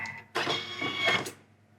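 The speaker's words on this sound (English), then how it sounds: "Lid back on, give it another process, give that a good mix." A food processor runs a short burst mixing Biscoff biscuit dough, a close, whirring motor with a steady high whine that starts abruptly and fades out after about a second.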